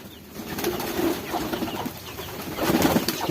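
A homing pigeon in a loft coos softly and repeatedly against a busy outdoor background, with faint rustling and possible wing movement, heard close by and no one talking.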